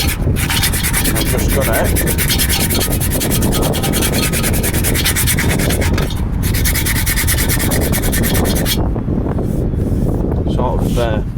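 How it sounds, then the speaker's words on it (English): Brake shoes from a BMW 320d rear suspension are scrubbed by hand with 80 grit sandpaper. The rasping is loud, close and continuous, with rapid back-and-forth strokes, and someone speaks briefly over it. "So I've just got some 80 grit."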